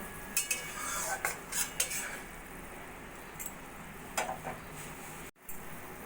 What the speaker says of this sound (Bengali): এবার দিয়ে দেবো আমি গরম মশলার গুঁড়ো গরম মশলাটা ভালো করে মিশিয়ে নেবো